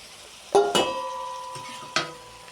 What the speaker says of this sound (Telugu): వేపుకున్న ఎండు చేపలు వేసుకుందాం